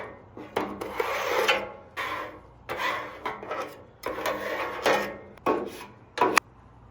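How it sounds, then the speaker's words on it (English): A metal scraper rasps in repeated strokes across a Blackstone griddle cooking surface, several close, rough passes with short pauses between them, no voices. "All you have to do is scrape the entire thing."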